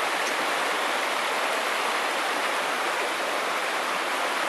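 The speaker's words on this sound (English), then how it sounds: "This creek is cool though." Creek water fed by snowmelt and natural springs rushes steadily and close by, a dense, unbroken wash with no voices over it.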